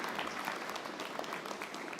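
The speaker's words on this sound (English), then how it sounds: "I'd like to give them a short round of applause" Members at a State Bar of South Dakota meeting give a brief round of applause for committee members, heard as an even wash of clapping that is fairly soft and distant.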